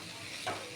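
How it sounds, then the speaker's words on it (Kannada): Onion and garlic dropped into 4-5 spoons of hot oil for a tempering in a mixed vegetable egg curry, giving a brief soft sizzle and stir that swells near the middle of a short, quiet moment. "ಒಗ್ಗರಣೆಗೆ 4-5 ಚಮಚ ಎಣ್ಣೆ ಹಾಕಿ, ಒಂದು ಈರುಳ್ಳಿ ಹಾಕಿ, ಒಂದು ಬೆಳ್ಳುಳ್ಳಿ ಹಾಕಿ"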